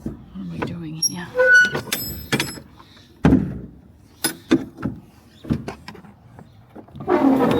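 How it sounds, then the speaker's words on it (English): A truck door handle clicks and clatters, followed by a door thudding shut, with scattered knocks and rattles between them. "I'm fighting with the door handle here"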